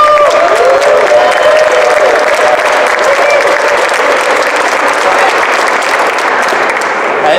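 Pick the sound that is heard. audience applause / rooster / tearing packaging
audience applause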